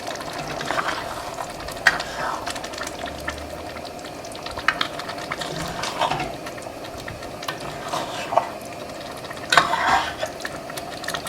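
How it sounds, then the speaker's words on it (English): Chili with red beans being stirred in a pot, with a steady low bubbling bed and scattered scraping and clinking of the spoon against the pot, sharper knocks near the end; no talking. "Continue to stir until they all mix well."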